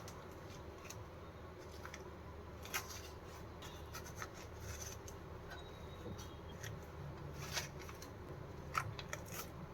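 Ash gourd being sliced with a knife and its seeds scraped out, soft intermittent cutting and rasping scrapes, close and fairly quiet; no talk.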